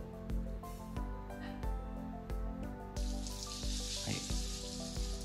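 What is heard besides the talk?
garden hose shower spraying water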